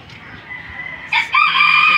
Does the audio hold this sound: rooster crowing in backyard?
yes